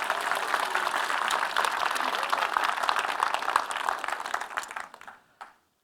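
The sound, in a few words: conference audience applause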